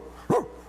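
A dog named Bear gives a single short bark, fairly close and clear against quiet background hum.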